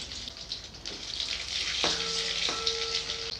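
Four dried red chillies fry in hot oil with nigella seeds, giving a close, continuous sizzling hiss with light crackles. Brief tonal clinks of utensils sound partway through.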